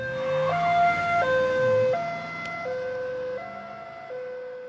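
A two-tone fire engine siren wails on arrival, alternating high and low notes in a slow regular pattern, loud and close with traffic rumble beneath, no talk.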